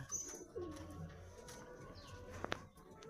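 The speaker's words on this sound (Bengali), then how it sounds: "এটা ছেলে পায়রা, এই হচ্ছে মেয়ে পায়রা।" Pairs of high-flying Madras pigeons coo softly nearby in a quiet loft, a brief low call with a couple of faint chirps and light rustling.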